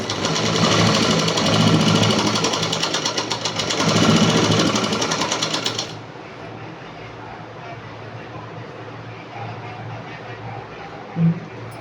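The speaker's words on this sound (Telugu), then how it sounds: "సో ఇట్లా ఒక స్టిచ్ అయితే వేసుకోవాలండి" A sewing machine stitches a 3-in-1 coat-model dress, running loud and steady with a rapid mechanical rattle for about six seconds before stopping, leaving a quiet room.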